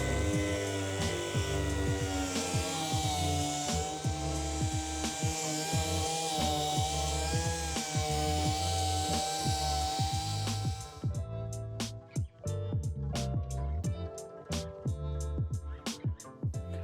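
A rusty car hood being sanded with 180 grit, a steady, loud abrasive whirring and rubbing that runs throughout, shifting to sharper rhythmic scraping strokes near the end.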